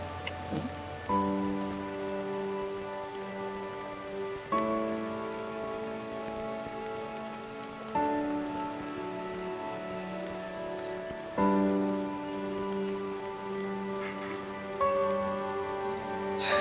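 Rain falls steadily in a drama scene, a continuous hiss and patter heard under sustained, swelling musical tones that return in waves.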